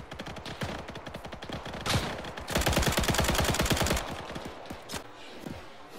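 Rapid gunfire in a Pointe du Hoc D-Day memorial combat game, bursts of automatic shots crackling close and loud, with a dense sustained volley in the middle and scattered single shots toward the end.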